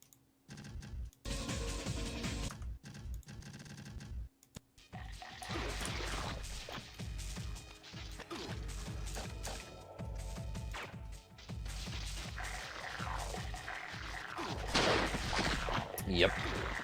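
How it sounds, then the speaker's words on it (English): Mortar shells fire in the video game MDK2 as a string of sharp, punchy bursts and crashes, some in quick clusters, with a voice talking over parts of it. "looks like you gotta shoot mortar shells over there"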